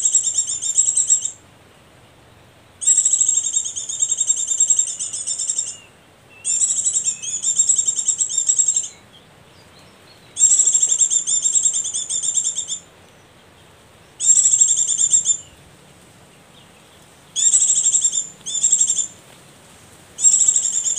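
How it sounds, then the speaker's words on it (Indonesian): A tricolored munia finch gives shrill, high-pitched calls in repeated bursts a couple of seconds long, with short silent gaps between them. The calls are loud and close. "burung mewah ya, tricolor finch yang saya dapatkan menggunakan suara burung pleci"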